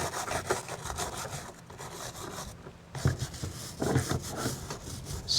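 Scrubbing and cleaning a deer skull after a long soak, heard as close, uneven rubbing and scraping strokes in bursts with short pauses, no voices.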